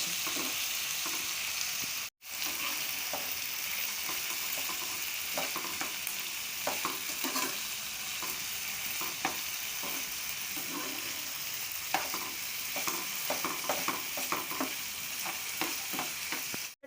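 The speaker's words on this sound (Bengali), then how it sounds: "এবার এগুলো একটু ভালো করে ভেজে নিই" Onions fry in oil in a pan with a constant, loud sizzling hiss, broken by frequent stirring scrapes and soft pops. One brief dropout interrupts it, and no one speaks.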